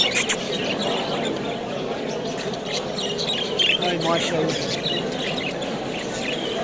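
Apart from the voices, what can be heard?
budgerigars chirping at a pet fair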